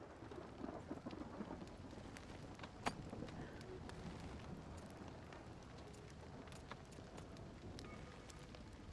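Steady rain falls in the video game Nightingale, a dense, even hiss of drops on surfaces with a distant thunder crack near the three-second mark, continuous throughout with faint speech barely present.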